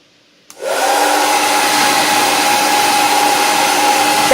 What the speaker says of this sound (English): This is the Kingstar hair dryer.